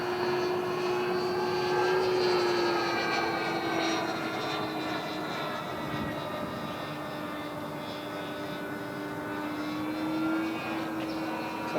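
A P-40 Warhawk model airplane's engine drones steadily in flight, a continuous buzzing tone that wavers slightly in pitch as the plane moves, fairly loud throughout with no talk.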